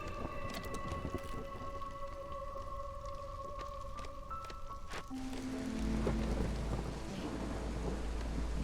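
Steady rain and rumbling thunder from the storm in the city-builder game Against the Storm, a dense continuous wash with a deeper low roll swelling in the second half, no voices.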